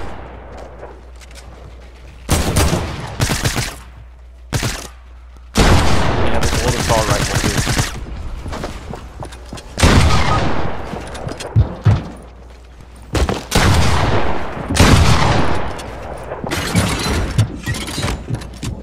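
Bursts of rapid gunfire from a gold SMG and a gold shotgun ring out in a competitive shooter game, loud clustered volleys separated by brief pauses with some talk between.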